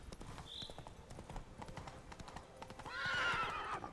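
Hooves clip-clop steadily as a horse gallops in The Witcher 3, and a whinny breaks in near the end. Faint voices sit in the background.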